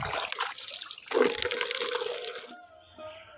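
Clothes being washed under a running tap, water splashing and gushing steadily before tapering off to quieter trickling and drips.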